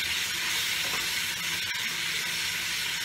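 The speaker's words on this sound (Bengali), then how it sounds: "এইবার আমি ওই পেঁয়াজ বাটার জলটা দিয়ে কষবো।" Onion paste water sautéing in a hot pan, a loud continuous sizzle with steady hissing throughout.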